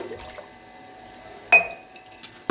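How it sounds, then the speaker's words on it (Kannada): A glass of water tipped into a cooking vessel at home; a quiet lead-in, then a sudden close splash and clinking glass pour, followed by a second sharp clink and splash at the end. "ಈ 1 ಗ್ಲಾಸ್ ನೀರನ್ನ ನಾನು ಈ ಪಾತ್ರೆಗೆ ಹಾಕ್ಕೊಂಡು"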